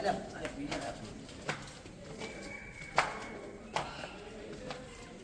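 Pigeons coo around the old stone walls of Uparkot fort, Junagadh, soft and intermittent behind nearby chatter and a few sharp clicks and knocks.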